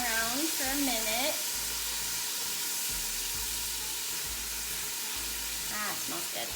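Crushed red pepper sizzles and fries in a pan while being stirred, a steady close hiss with brief stirring scrapes, and a voice talks over it at times.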